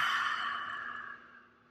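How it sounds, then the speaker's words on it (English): One slow, audible exhale through the mouth that fades away over under two seconds, soft and close, in a guided breathing exercise. "hold at the top, exhale"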